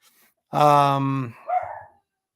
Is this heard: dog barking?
yes